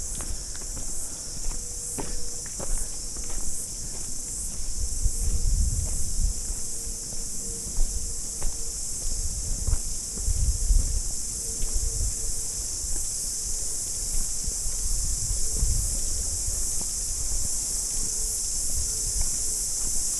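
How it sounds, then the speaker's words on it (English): A steady, dense high-pitched cicada chorus buzzes continuously on the Kitekite Falls trail in New Zealand, with faint low thumps and footsteps underneath. "the cicadas are just so dense it becomes quite deafening"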